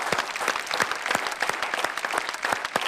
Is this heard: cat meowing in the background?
no